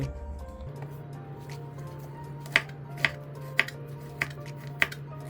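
Garlic being chopped with a knife for burned sugar stew chicken: five crisp, evenly spaced taps about half a second apart, fairly close, over a low steady kitchen hum.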